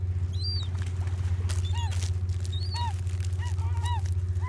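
Gulls and ducks calling repeatedly while being fed bread at the shore, several short rising cries scattered over a steady low hum, with no talking.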